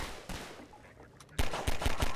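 Bursts of rapid gunfire in Half-Life 2, a lone shot early then a loud close volley of several quick shots near the end.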